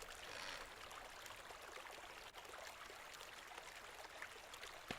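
Water pours steadily onto crops in the video game Wild West Dynasty, a continuous splashing trickle with no talk.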